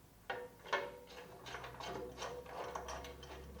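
A hand ratchet tightens a winch mounting bolt with two sharp initial clicks, then a quick run of close, rhythmic ratcheting clicks.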